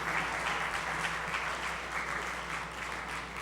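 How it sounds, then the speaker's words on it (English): An audience applauding performers at a movie-themed challenge event, a continuous even roar of many hands clapping at moderate level, holding steady throughout. "Now give them another hand of applause right there."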